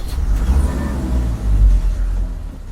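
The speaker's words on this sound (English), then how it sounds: "Convertibles are really great for driving in the sun." A convertible car drives past with a low, steady engine rumble that swells slightly midway, loud and close, with no voices.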